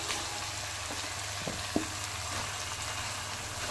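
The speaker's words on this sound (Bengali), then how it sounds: "এবার এতে মাছের মাথাগুলো দিয়ে দেব।" Fish heads dropping into hot oil for a Bengali cabbage and fish-head curry, giving a steady, close sizzle of frying with a couple of brief clinks or stirs partway through.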